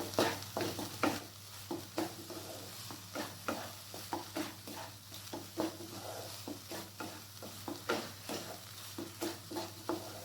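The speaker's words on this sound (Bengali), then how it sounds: "মশলাটাকে আমি ততক্ষণ পর্যন্ত কষিয়ে নেব যতক্ষণ না মশলা থেকে তেল ছাড়তে শুরু না করে" Spice paste cooking down in oil for rajma (kidney bean curry), sizzling softly while a spoon stirs and scrapes in repeated close strokes against the pan, with a steady low hum underneath.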